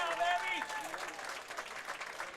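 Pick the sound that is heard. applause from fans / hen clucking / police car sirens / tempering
applause from fans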